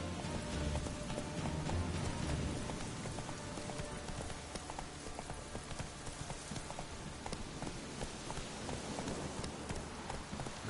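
Hooves of Roach, Geralt's horse in The Witcher 3, clip-clop at a steady rhythm as she slows, with ambient game sound and rain-like hiss beneath.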